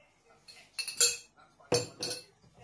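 A utensil clinks and scrapes against a lasagna dish while the filling is mixed, producing several short metallic taps and stirring scrapes at close range.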